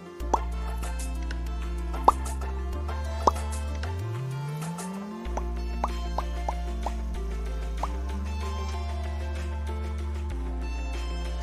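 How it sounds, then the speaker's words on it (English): Bubbles popping in the animated web series Battle for BFB: a string of short, bright plops and drips over a steady cartoon music bed, with one rising sliding tone in the middle. "All the bubble popping noises made me think I popped Bubble"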